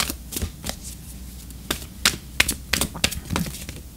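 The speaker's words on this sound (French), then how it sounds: "on va tirer une carte d'oracle" Oracle cards being shuffled and drawn during a tarot-style reading, heard as a run of quick dry flicks and taps with faint scattered clicks between them, close and fairly quiet, with no voice.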